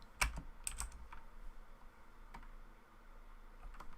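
Quiet typing on a computer keyboard while entering text in Blender, a few scattered light key taps with long pauses between them, faint and close.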